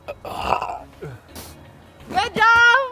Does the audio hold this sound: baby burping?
yes